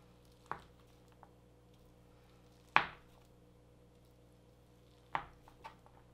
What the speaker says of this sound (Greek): Κόβουμε τη γραβιέρα σε κυβάκια.